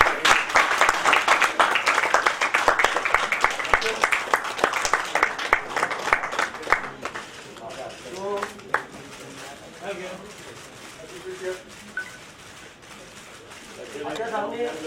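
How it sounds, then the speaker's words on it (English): An audience at a book launch claps, dense and lively for about seven seconds, then thinning to scattered claps under voices and background chatter. "And can we please clap?"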